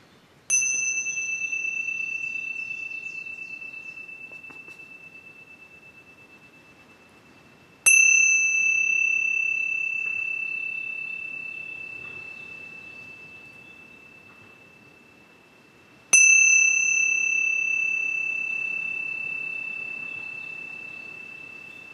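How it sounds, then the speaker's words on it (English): Ancient Tibetan temple bells are struck three times at even intervals, each clear bright tone ringing out and slowly fading before the next strike, with nothing else in the background. "These are ancient Tibetan temple bells that are made to give the example of what the nada sounds like."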